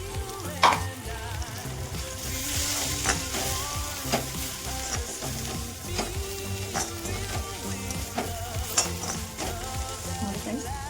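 Roasted gram powder is stirred into puffed rice in a hot pan for mandakki churumuri, with a continuous soft sizzle and repeated scraping strokes of the spoon, close by.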